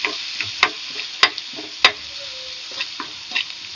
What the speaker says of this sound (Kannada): ಈರುಳ್ಳಿ ಚೆನ್ನಾಗಿ ಫ್ರೈ ಆದಮೇಲೆ ಉಪ್ಪು ಅರಿಶಿನ ಹಾಕ್ಕೊತಾ ಇದ್ದೀನಿ